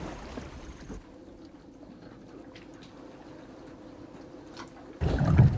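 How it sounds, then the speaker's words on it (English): A canoe built on the Palauan war canoe design is paddled through water among Palau's rock islands, with soft dips and trickles in a quiet stretch before a louder splashing rush of water at the end. "right now we're paddling through the middle of the rock islands"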